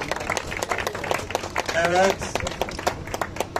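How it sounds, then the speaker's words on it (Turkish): Scattered applause for a runner at a university youth race awards ceremony outdoors, light clapping under a loud announcer's voice and crowd chatter. "Bir alkış Zehra'ya"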